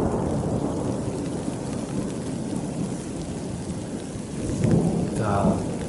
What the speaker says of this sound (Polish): No a teraz w końcu burza dotarła.